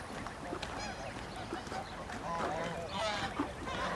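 Geese honk and gabble close by after being fed, repeated nasal calls overlapping across the whole stretch, with a voice talking faintly underneath.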